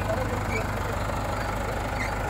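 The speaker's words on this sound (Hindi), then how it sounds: "अब जो है हमने अपना बड़ा महिंद्रा 585 जुड़वाया देखो इसकी भी ताकत देखी जाएगी" A Mahindra 585 tractor runs hitched to a nine-tine cultivator on a farm field, its engine a steady, low, continuous drone throughout with no pauses or revs.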